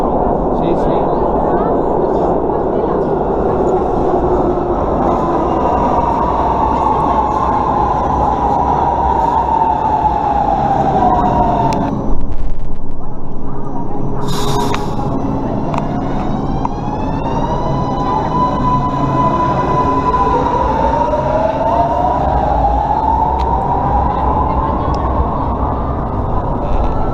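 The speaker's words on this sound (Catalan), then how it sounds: "è il metro." A metro train runs continuously and loud throughout, with rising and falling tonal whines from the motors as it accelerates and brakes, and a short high squeal midway; people talk over the rumble.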